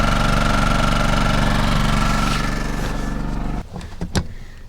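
A gas-powered generator runs at about a quarter load with a loud, steady droning hum, then abruptly cuts away to quieter room sound with a few brief knocks.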